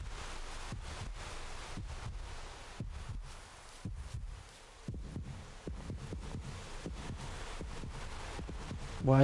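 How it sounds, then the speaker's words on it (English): Rhythmic heartbeat thumps from the horror video game Yomawari, steady low pulses repeating throughout over a dark ambient hum, with no talking. "Why is my heart beating?"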